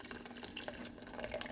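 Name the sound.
boiling water being drained from canning pot with tongs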